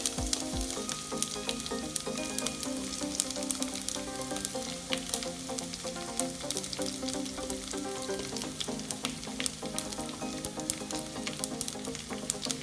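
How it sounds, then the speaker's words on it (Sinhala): Ginger and garlic fry in hot oil for a Sri Lankan polos curry, a steady close sizzle with crackling pops and no talk. "දැන් මේ තෙල් එකට ඉඟුරු සුදු ලුණු දාගමු."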